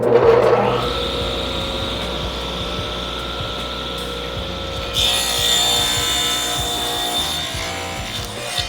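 A saw makes a first 45-degree cut through wood with a steady, close whine and grinding rasp that carries on for several seconds and grows brighter partway through.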